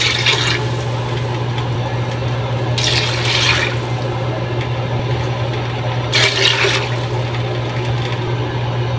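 Three glasses of water poured into a cooking pot while making beans with pork, heard as a couple of brief splashing pours over a steady kitchen hum, with no talking.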